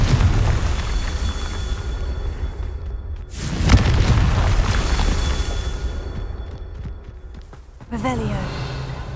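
Confringo blasting spell explosions in Hogwarts Legacy: dense, rumbling game audio with a heavy boom near the middle and a sharper burst toward the end, over a constant low roar.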